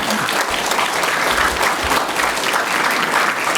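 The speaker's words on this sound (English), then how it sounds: "So that man deserves a round of applause." People at a school board work session give a round of applause: several seconds of steady, fairly close clapping from a modest-sized group, even in volume throughout with no talking over it.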